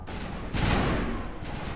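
Sniper gunfire in a video game: a loud crack at about half a second, then a second burst near the end, against a constant background of game noise.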